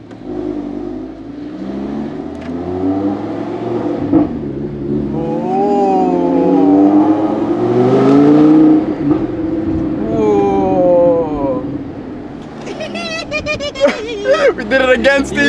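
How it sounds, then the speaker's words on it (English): Lamborghini car engine revving and rising in pitch before driving off, heard at moderate distance beneath people talking nearby. "That actually sounded like my car."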